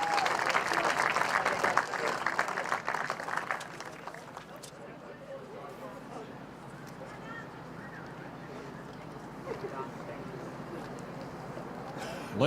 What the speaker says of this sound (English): give these wonderful athletes one last round of applause